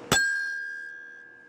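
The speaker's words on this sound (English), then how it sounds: "The level up bell strikes again." A single bright electronic bell chimes once in the Mario Party Island Tour video game, a sharp strike that rings out and fades slowly over a second and a half.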